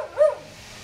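A single short dog bark, fairly close and clear, rising then falling in pitch, followed by quiet room tone.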